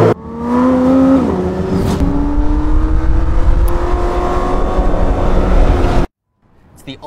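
McLaren Elva sports car engine revving loudly and up close, its pitch climbing in a sustained surge for about six seconds before cutting off abruptly, leaving a brief quiet gap.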